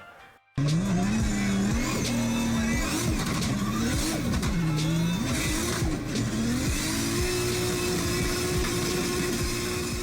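A drift car engine with anti-lag screams and revs hard, its pitch swooping up and down, then holds a high steady whine; loud and close.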